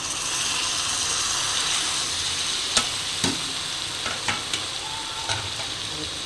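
Fried onion and eggplant for bharit are stirred in a hot pan: a loud, steady close sizzle with a handful of sharp spoon scrapes and clicks toward the end, no voices.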